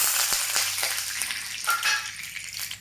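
Fenugreek seeds fry in hot coconut oil with mustard seeds already popped in the pan, for a tomato curry. A close, crackling sizzle has faint sharp pops and light stirring scrapes and fades slightly toward the end.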